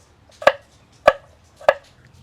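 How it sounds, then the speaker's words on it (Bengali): A knife chops garlic finely on a board: three crisp, evenly spaced cuts, close and distinct, with quiet between each stroke. "এখানে এখন আমি রসুন কুচাচ্ছি পাতলা পাতলা করে ছোট ছোট করে কুচিয়ে নিচ্ছি"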